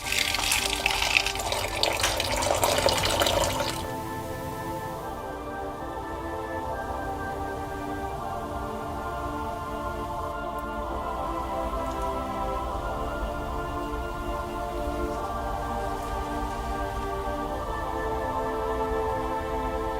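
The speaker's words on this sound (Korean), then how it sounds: "놀랍게도 SCP-294를 통해 흘러나오는 액체" Liquid pours out of the SCP-294 drink machine in a short splashing gush that fades into a steady, quieter trickle and hum lasting many seconds.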